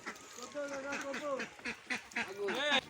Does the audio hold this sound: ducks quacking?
yes